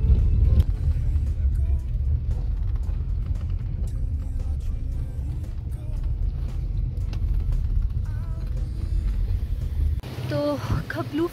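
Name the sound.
car driving on the road into Khaplu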